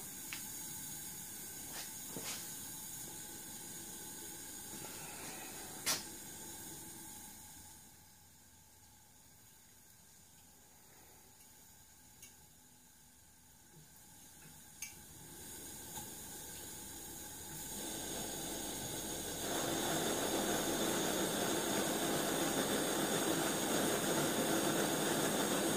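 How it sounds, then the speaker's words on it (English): A Coleman 500A camping stove burner roars with a steady hiss, then is turned down to a simmer and drops to a softer, quieter hiss. A few clicks come through before the flame is opened up again to a louder rush. "That was full, wide open. So there's turning it down to simmer"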